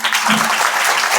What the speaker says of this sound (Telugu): హసీం వలికి మనం చప్పట్లు కొట్టాలి